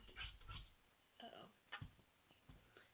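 A dog whimpers in soft, short, scattered whines and yips, faint and close, with quiet gaps between each little cry.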